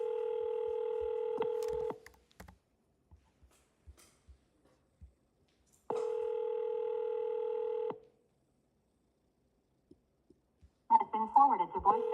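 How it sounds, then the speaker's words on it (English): A voicemail recording tone sounds as two long steady electronic beeps, each lasting about two seconds, separated by faint clicks and near-silence, before a voice begins at the end. "At the tone, please record your message."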